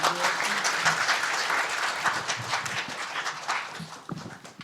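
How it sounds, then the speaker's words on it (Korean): An audience at a Korean seminar gives a welcoming round of applause for a speaker, a loud dense clapping that holds steady, then thins out with a few scattered claps near the end. "모두 큰 박수로 환영해 주시기 바랍니다."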